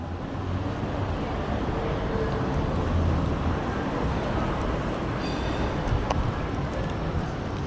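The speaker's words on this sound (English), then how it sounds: "Oh, here comes the tram." A tram approaches along a wet city street in the rain, a steady low rumble of wheels and traffic wash, with a faint brief squeal near the end.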